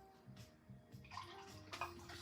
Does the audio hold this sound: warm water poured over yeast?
yes